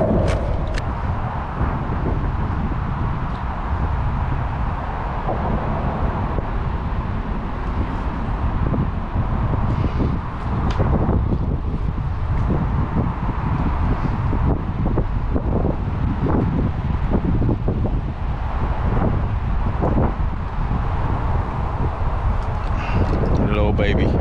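Strong wind of 15 to 20-plus mph gusting over a lake during crappie fishing, a steady loud roar buffeting the microphone for the whole stretch, with occasional knocks and a voice talking underneath.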